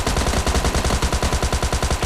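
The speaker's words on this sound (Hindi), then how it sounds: "मैं दोबारा से फायर देता हूँ" Rapid automatic gunfire from an Uzi in PUBG Mobile Lite, a loud, steady burst of evenly spaced shots with no pauses and no talk.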